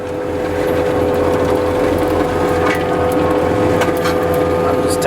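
A forestry mulcher's engine roars steadily while grinding through small trees and brush, with a constant mechanical drone broken by scattered cracks and snaps of wood.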